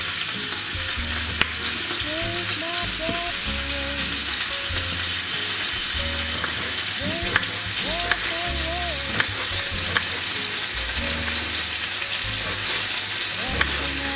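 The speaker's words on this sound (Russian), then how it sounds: "Пока жарится курка, шинкуем все овощи." Chicken fries in a pan with a steady, dense sizzle and crackle that continues throughout, punctuated by occasional sharp pops and soft stirring clatter, close and fairly loud with no voices.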